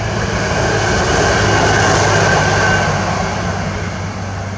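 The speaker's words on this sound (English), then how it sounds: "Like, here comes a train." A train rumbles past at close range, a loud, sustained broadband roar with a steady low drone that swells slightly in the middle and eases off toward the end.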